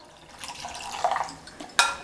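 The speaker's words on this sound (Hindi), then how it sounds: "अब हम इसमें डाल देंगे पानी।" Cold water from the fridge is poured into mango panna in a bowl. It makes soft trickling and splashing sounds that swell and fade over a couple of seconds, with a brighter splash near the end.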